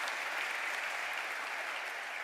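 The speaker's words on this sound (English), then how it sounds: "Can we give a nice round of applause to His Excellency Adel Al-Jubeir?" An audience applauds His Excellency Adel Al-Jubeir at the Global Cybersecurity Forum 2023, giving a soft, even, distant wash of clapping from a large hall.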